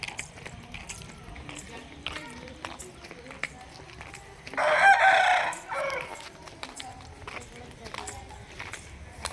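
Chickens cluck and a rooster crows loudly for about a second beside a rangoli drawing at a village rangoli contest, with fainter bird calls and background chatter around it.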